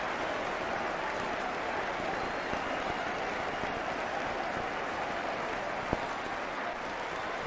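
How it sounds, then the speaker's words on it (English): Generous crowd applause at a 1997-98 Premier League football match between Manchester United and Wimbledon as Andy Cole is helped off the field, a steady broad wash of distant stadium clapping with one brief louder knock near the end. "That's the generous round of applause you can hear."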